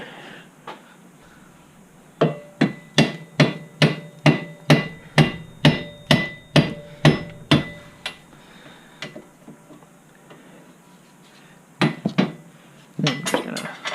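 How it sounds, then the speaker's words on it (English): Sharp metallic hammer strikes ring out in a steady run of about a dozen blows while fitting a winch part on a Suzuki KingQuad 400 ATV, followed by a pause and a few more scattered taps. "Let me grab a hammer."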